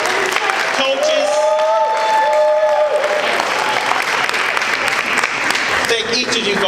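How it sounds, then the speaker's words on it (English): An auditorium audience applauds contestants and coaches at a quiz bowl competition, a loud continuous wash of clapping with a voice speaking over it early on and again near the end. "let's give them a hand of applause, each of our contestants, coaches."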